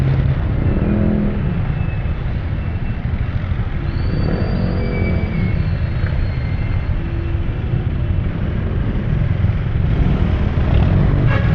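Heavy road traffic on Kalayaan, a constant dense rumble of cars and motorcycles with engines revving and passing close by, loud and continuous with no talk.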